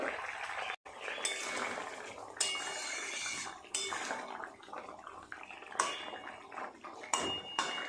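A lid comes off a pot of boiled vegetables with metallic clinks and scrapes of utensils against the pan, set against a faint, steady background hiss.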